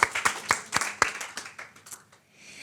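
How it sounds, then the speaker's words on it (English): Scattered applause at an awards evening: a few sharp, close hand claps at first, thinning out into lighter, sparser clapping that fades to near silence at the end. "give her a round of applause"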